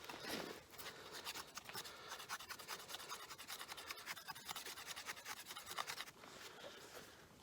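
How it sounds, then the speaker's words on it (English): Knife blade shaving resinous fatwood into a pile of curls, outdoors in snow: a steady run of close, dry rasping scrapes in quick repeated strokes, with a brief pause near the end. "Now I'm going to make a pile of fatwood shavings"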